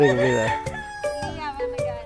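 A rooster crows in a series of harmonic, drawn-out calls with short clucks between them, close and clear in a rural Negros Occidental setting, with faint talk in the background.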